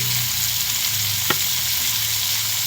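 Tomatoes fry in hot mustard oil with a steady, close sizzle throughout, joined midway by a single sharp scrape or clink.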